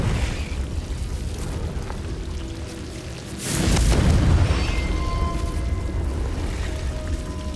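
A Confringo fire-blast spell from Hogwarts Legacy goes off midway as a single loud, broad boom with a rushing burst, settling into a sustained roar and crackle over steady game ambience.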